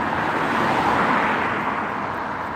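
Road traffic rolls past on a street while walking a dog, a fairly loud, even rush of car noise that swells slightly midway, with no talking.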